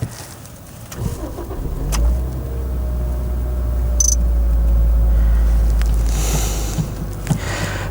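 A 2008 Toyota Corolla E150 with a 1.6 engine and manual gearbox cranks briefly and catches, then settles into a steady, close, moderately loud idle that holds for several seconds.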